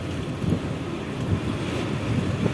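Strong wind buffets the microphone at Bakauheni harbour at night, a steady loud low rumble with gusty swells and a hint of sea and boat noise behind it, no talking.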